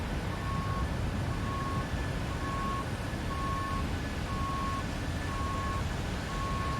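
Construction machinery building houses outside gives off repeated reversing beeps, a regular train of short tones at a steady pace, moderately distant under broad rumbling background noise.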